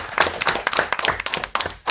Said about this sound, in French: Je pense que même dans le public, on peut l'applaudir.